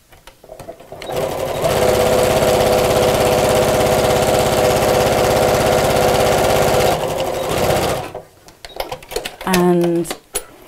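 A sewing machine runs a continuous rapid stitching burst for about six seconds while it puts in a short row of tacking stitches, then stops, followed by a few light handling clicks and a brief voice.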